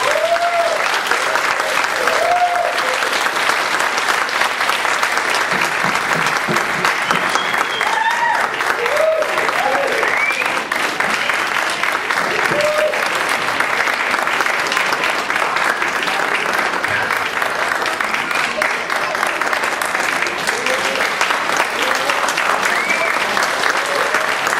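Sustained applause from a graduation audience, dense and steady clapping filling the space without pause, with occasional voices and cheers rising from the crowd.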